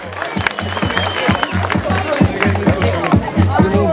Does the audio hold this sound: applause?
yes